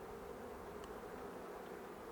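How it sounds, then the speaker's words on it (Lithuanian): Honeybees buzz at an opened beehive during a colony check, a faint, steady, dense hum of many insects with no breaks. "bitės"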